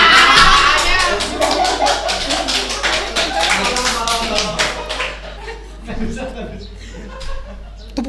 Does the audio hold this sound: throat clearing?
no